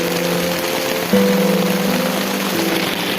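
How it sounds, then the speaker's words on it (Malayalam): Heavy rain pours down over a cleared vegetable garden plot, a dense steady hiss of falling and running water with a faint low droning hum beneath it. "അതുകൊണ്ട് ഇതാ വലിയ മഴയാണ്"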